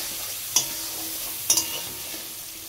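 Potatoes frying in a pan with chili powder, coriander powder, salt and turmeric, a steady low sizzle broken by a few sharp clanks of a spatula stirring against the pan.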